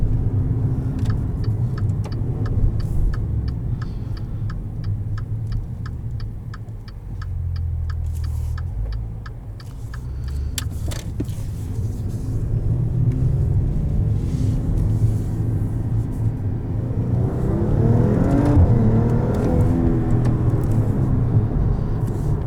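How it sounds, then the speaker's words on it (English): A 2019 Maserati Quattroporte S with its V6 engine drives along, giving a steady low rumble with light ticking from the cabin, and a brief swell of engine note toward the end. "And a properly good sounding V6"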